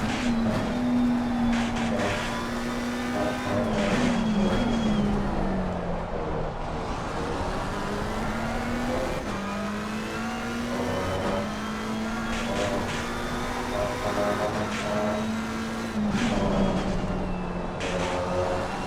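A McLaren 720S race car at Misano in Assetto Corsa Competizione gives a steady, loud engine drone that climbs in pitch through each gear and drops at the shifts, held at high revs through the lap with no talking.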